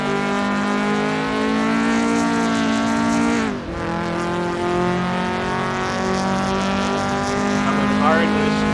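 A Toyota AE86 race car drives the Lime Rock track, its engine droning loudly and steadily with a sharp dip as it brakes hard after missing an apex, then climbing again under race commentary.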